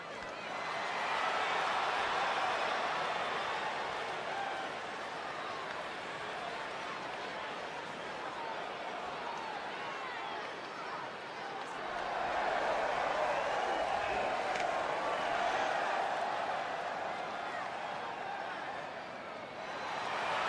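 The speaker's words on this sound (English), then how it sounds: "it sounds to me like the crowd is more than ready for this one" Crowd at an indoor wrestling event waiting for a match, a steady murmur of chatter and scattered cheers that swells slightly in the second half, with an announcer's voice talking over it.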